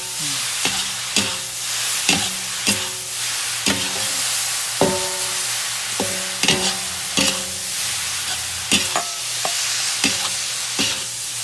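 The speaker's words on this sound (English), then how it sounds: "after that, you mix again until evenly cooked" Noodles for mie goreng, Indonesian fried noodles, sizzle in a pan while a utensil scrapes and clanks against it in a steady rhythm of about a dozen sharp strokes over the constant frying hiss.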